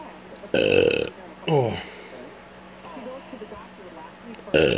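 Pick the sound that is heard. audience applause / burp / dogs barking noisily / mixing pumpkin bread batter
burp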